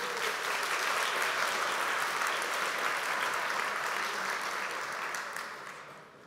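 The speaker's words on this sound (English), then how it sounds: "Round of applause." A large conference audience applauds after a speaker introduction at a React Native WebGPU tech talk, a dense, steady wash of clapping that holds loud and then tapers off toward the end.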